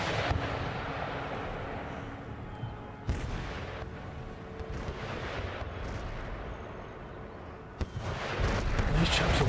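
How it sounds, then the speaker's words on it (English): Cannon fire in the video game Empire: Total War, with heavy booms striking several times amid a dense, continuous din of battle, two especially sharp blasts standing out over the sustained rumble. "just from the cannon fire"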